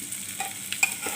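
Meat and rice pulao being stirred in a pan, with soft scraping and light sizzling, a few small clinks of the utensil against the pan, heard up close and quiet with no talking.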